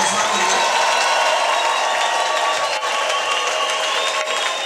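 A crowd at a religious gathering claps in a dense, sustained burst of applause, loud and continuous throughout with no clear pauses.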